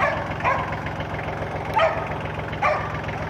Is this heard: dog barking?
yes